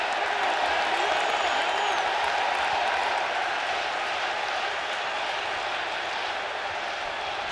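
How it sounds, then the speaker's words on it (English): Baseball stadium crowd in Flushing at a Giants–Mets playoff game roars continuously, a dense wall of cheering and whooping heard from within the stands, steady and loud throughout. "And listen to this crowd here in Flushing."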